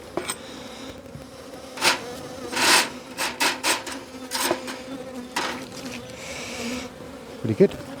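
A low, steady buzz of bees around a hive during a box swap fills the background, broken by several short scraping and rubbing noises and a couple of sharper knocks.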